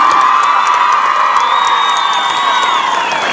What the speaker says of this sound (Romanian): Aceleași aplauze ca la început